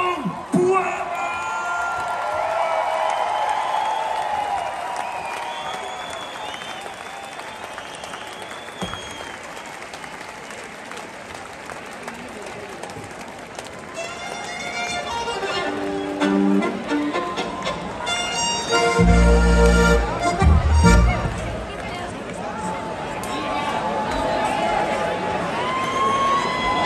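Festival crowd in Kitzbühel applauding and cheering, sustained loud clapping with whoops and shouts, then music and a voice over the crowd rising toward the end.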